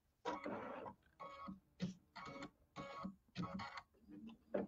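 Home embroidery machine stitching snowflakes onto a Christmas tree quilt block, a rapid mechanical whirring in bursts of repeated stitching with short pauses between runs, close and fairly quiet.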